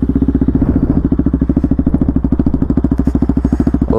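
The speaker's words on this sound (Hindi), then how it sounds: "एक बार exhaust note without dB colour आप लोग सुन लीजिए" A Bajaj Pulsar NS200 with an Akrapovic exhaust and the dB killer removed idles close by, giving a loud, rapid, evenly pulsing exhaust burble.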